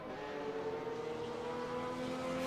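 Race car engine in Automobilista VR, a Boxer Cup car at Brands Hatch, giving a steady harmonic drone that holds at constant pitch and is fairly quiet, heard without any talk.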